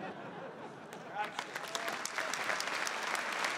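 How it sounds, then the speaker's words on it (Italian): Audience at an Italian comedy festival final applauding: clapping swells from quiet to dense, lively applause with scattered sharp claps and crowd murmur. "Adesso potete fare l'applauso."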